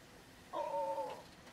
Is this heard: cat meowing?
yes